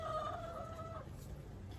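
A backyard chicken gives a single drawn-out, tonal call lasting about a second, fairly faint against a low background hum.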